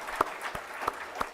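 A few sharp, evenly spaced hand claps ring out in a hall during a Bengali motivational talk about achieving goals, sparse rather than a full ovation, with a soft murmur underneath.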